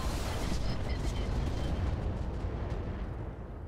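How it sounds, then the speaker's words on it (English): Weapon fire from a turret in the mech combat game Roguetech, a dense continuous roar of blasts and booms that stays loud throughout, with a voice faintly underneath. "fire on the turret"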